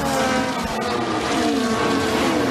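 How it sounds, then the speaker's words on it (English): Sergio Perez's Red Bull Formula 1 car at the Austrian Grand Prix, its high-pitched engine screaming loud and continuous as it races through the corners, with a dense roaring wash throughout. "this is the sound of the Red Bull of Sergio Perez making the move down the inside of Esteban Ocon"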